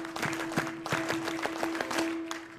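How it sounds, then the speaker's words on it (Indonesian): Scout-style rhythmic group clapping, the tepuk pramuka, with a patterned sequence of sharp claps in a quick beat, fairly close, over a faint steady tone and light murmur. "Tepuk pramuka."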